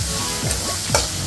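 Ground turmeric stirred and sautéed in hot oil in a pan for dal tadka, a steady close sizzle with scraping spoon strokes.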